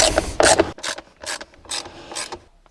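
TX20 screws being backed out of a Land Rover Discovery 4 centre armrest, several short ratcheting clicking bursts from a driver, close and dry with no talking.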